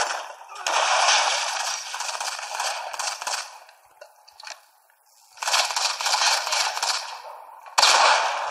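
Bursts of rapid gunfire from the multiplayer mode of the mobile shooter Modern Combat 5: Blackout, three loud sustained volleys separated by brief quieter gaps.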